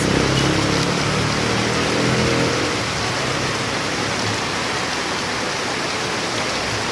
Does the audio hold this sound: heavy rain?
yes